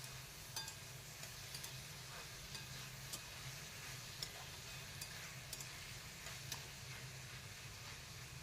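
Dried shrimp, onion, capsicum and kokum sautéing in a pan give a soft, even sizzle, broken by sharp utensil taps and stirring scrapes at intervals.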